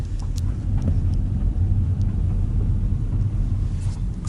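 2022 Honda Civic driving, heard from inside the cabin as a steady low road rumble and engine drone, continuous and moderately loud with light wind noise.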